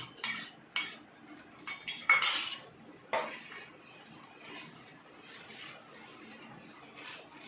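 A metal spoon scrapes and clinks against a bowl while two spoonfuls of curd are stirred into collected cream, a few sharp clatters near the start followed by softer, steady scraping close by.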